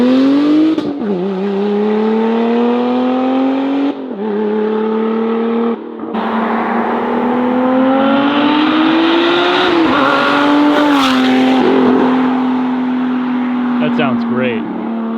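Lotus Emira with a valved titanium cat-back exhaust in track mode, loud sustained revving that climbs and holds, with a sharp blip near the start and further throttle swells, close and dominant throughout.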